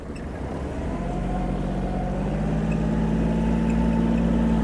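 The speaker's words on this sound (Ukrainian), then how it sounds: "Оберт на місці включили, передачу трішки зменшили, напрям руху задали і викручує кермо." A Kubota GL-320 Japanese mini tractor's engine runs as the machine turns on the spot, giving a close, steady, continuous drone that stays level throughout, with no talking.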